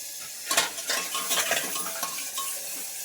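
Curry leaves stirred into hot masala in a pan, with a burst of sizzling crackle and repeated scraping strokes of a spoon against the metal, close and fairly loud.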